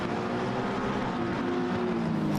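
An Aston Martin GT3 race car engine roars in Assetto Corsa Competizione at Brands Hatch, a dense, continuous mid-pitched drone held steady at high revs throughout.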